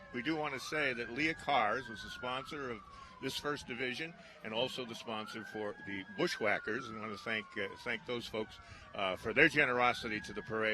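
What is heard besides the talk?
sirens in the background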